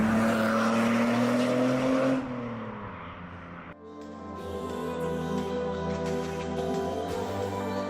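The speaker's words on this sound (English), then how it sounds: "is that loud when it does a drive-by" A car fitted with a loud valved custom straight-through exhaust roars past close by, its engine note swelling then dropping off as it drives away, followed by a steadier rumbling drone with no talk.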